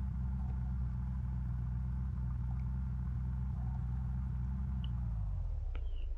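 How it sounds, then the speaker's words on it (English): A car engine idles and rumbles steadily at moderate level while driving into a garage in an arid setting, the low drone tapering off near the end; no talking. "All we need to do is put the car in the garage"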